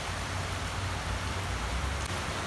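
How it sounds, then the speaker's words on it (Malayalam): Heavy rain pours down outside a shop, a dense, steady hiss of drops on surfaces with a low roar underneath, even and unbroken throughout. "നല്ല മഴയാണ് പുറത്ത്."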